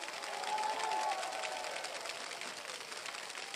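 A crowd at a Thai political rally applauds in a sustained, even wash of clapping. It sounds moderately distant, with no voices standing out.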